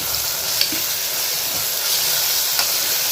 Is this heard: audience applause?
no